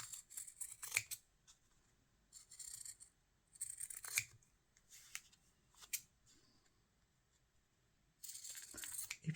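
Scissors snip through a paper template for English paper piecing, a few short bursts of crisp cutting separated by quiet pauses, close and fairly faint, with no talking.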